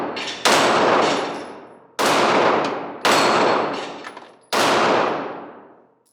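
Four loud, sharp Glock pistol shots, loaded from a Shield Arms S15 magazine, fired outdoors at close range with uneven spacing, each one ringing out and decaying over about a second before the next.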